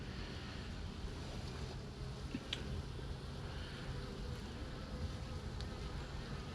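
Honey bees buzz steadily around an outdoor hive being set up on a farm, a dense, continuous hum with a few brief nearer passes and no talking.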